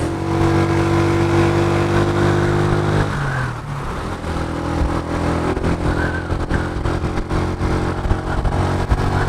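Steady engine drone of a motorcycle riding at night through Johor, Malaysia, heard continuously up close with wind, a brief shift in pitch partway as the engine eases and picks up again.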